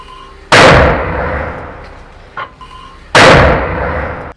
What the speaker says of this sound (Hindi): यहां पर अल-अक्सा ब्रिगेड ने आईडीएफ के कमांड और कंट्रोल चौकियों पर मोटर गोले दागे हैं।